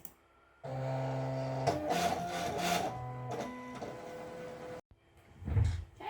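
A cutting machine kiss-cuts and die-cuts a sticker sheet, its motor whirring and stepping through shifting tones for about four seconds before stopping, followed by a short low thump.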